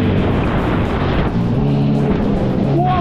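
A jet ski's engine roars loud and close, a dense, continuous motor drone that holds strong and rises slightly as the throttle opens, with water rushing beneath it.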